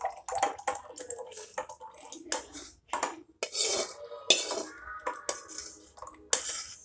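Cooled homemade tomato sauce being poured into a glass jar, with a run of clinks and knocks of glass and utensils alongside the liquid's splashy flow, close and moderately loud.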